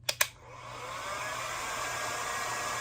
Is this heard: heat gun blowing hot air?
yes